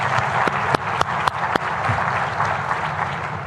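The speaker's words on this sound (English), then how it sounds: "I think he deserves a round of applause from all of us" Audience applause at a formal meeting in Marrakech, a dense steady wash of clapping from a large indoor crowd with a few louder individual claps standing out.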